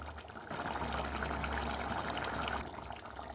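Water pours steadily into a mixer jar holding ground coconut and poppy seeds, a continuous close trickle and splash lasting about two seconds before tapering off.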